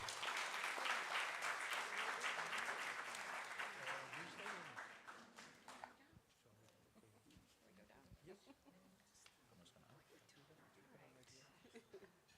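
An audience at a Youth Day event breaks into dense, sustained applause that swells and then fades out over about six seconds, leaving a speaker's voice over the quiet hall.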